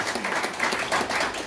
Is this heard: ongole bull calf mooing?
no